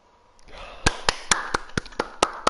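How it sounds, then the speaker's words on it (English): Single pair of hands claps sharply at a steady pace, about eight loud, close claps over a low murmur of background noise at an event. "Come on, clap!"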